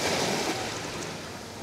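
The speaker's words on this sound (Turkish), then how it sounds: "Ay çok esiyor." Strong wind gusts at a seaside cove, a broad, steady roar with surf-like wash close to the microphone for a brief moment, without talk.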